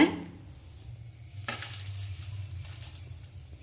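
Curry leaves fry in hot oil with a soft hiss that swells after a utensil knock, settling into a moderate, even sizzle with light stirring.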